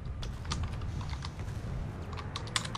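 Someone types on a computer keyboard during a Planetside 2 game session, a quick irregular patter of close, crisp key clicks over a soft low background hum, with no voices.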